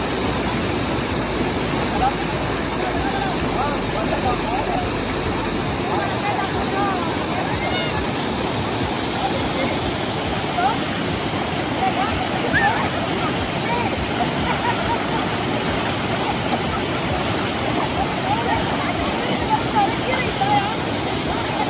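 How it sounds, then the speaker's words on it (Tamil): Athirappilly waterfall roaring with forceful rushing water, a loud, steady broadband wash that fills the whole stretch without letting up, close and continuous. "ஃபால்ஸோடைய சவுண்டு பாருங்கள், தண்ணி சவுண்டு எப்படி இருக்குன்னு, அவ்வளோ ஃபோர்ஸ் தண்ணியில்."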